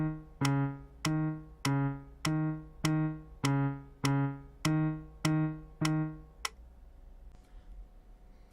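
Piano exercise played with left-hand fingers: nine evenly spaced single notes in a slow, steady beginner rhythm, clear and moderately quiet, then the last note fades into near silence.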